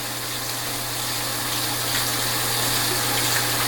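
Hot tap water runs and gushes steadily through a paintball barrel being rinsed out, a continuous close, even rushing flow with a low steady hum underneath and no talking.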